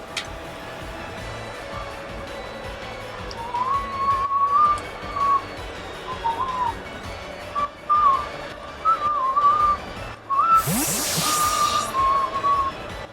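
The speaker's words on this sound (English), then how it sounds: "Sorry, I'm whistling." A person whistles a wandering melodic tune in short, warbling phrases against a quiet background, with a brief burst of broadband noise near the end.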